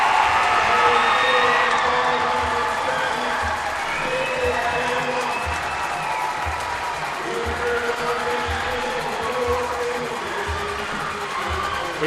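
At a girls' high school Division III basketball championship, a crowd applauds and cheers the winning team with sustained clapping, shouts and whoops that fill the gym for about twelve seconds.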